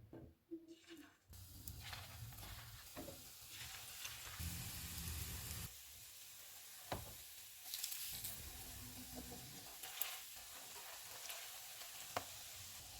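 Banana bread toast fries in two tablespoons of ghee in a frying pan over low to medium heat, giving a steady close sizzle. Soft scraping and light ticks from turning the slices break through it now and then.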